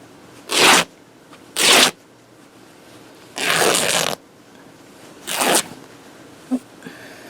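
Quilting fabric being cut in several separate broadband strokes, likely a rotary cutter sliding along a ruler, with two short strokes, a longer one and another short one, fairly loud and close with no talking.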